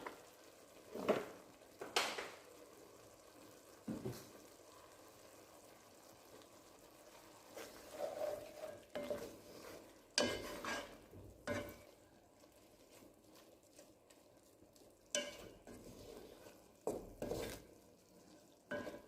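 Susumba cooks in a pan with soy sauce and paprika. A soft, low sizzle runs underneath while spoon-and-pan stirring knocks and scrapes come in sporadic bursts. The sounds are fairly quiet and close.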